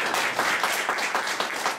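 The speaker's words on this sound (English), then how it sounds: "if you could give her a round of applause" A crowd applauds steadily, many hands clapping together in a continuous, even patter with no voices.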